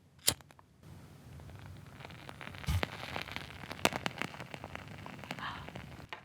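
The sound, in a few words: wooden-wick candle crackling like a fireplace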